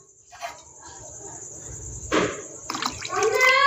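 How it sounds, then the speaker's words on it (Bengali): Water poured into a washed curd bowl, a brief splashing trickle that swells near the end, with a voice talking over it. "এই যে দইয়ের বাটিটা ধুয়ে আমি জলটা দিয়ে দিচ্ছি"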